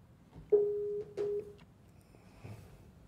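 A telephone call placed during a live stream gives two steady electronic tones in a row, each about half a second, followed by faint background noise.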